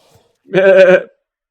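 A single sheep bleat from a video game, one clear tonal call lasting about half a second, close and fairly loud, with silence before and after.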